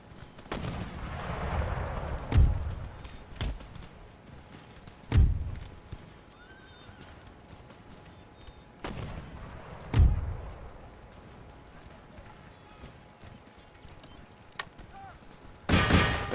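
Booming artillery and musket volleys in the Empire: Total War game, several heavy blasts spaced a few seconds apart over a low battlefield rumble with horse neighs and hoofbeats.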